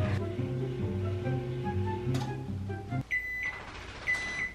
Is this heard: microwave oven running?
yes